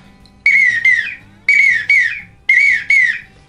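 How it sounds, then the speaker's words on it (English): Three loud double-note whistles from a wigeon duck call, each pair sharp and piercing with a sliding drop, evenly spaced and close. "It's just a really distinct whistle"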